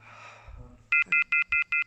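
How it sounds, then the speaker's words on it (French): A paranormal detector radar device beeps six times in a steady, evenly spaced series of loud, clear electronic tones inside a haunted tunnel, following a stretch of low rumbling room noise. "Le radar il vient de sonner."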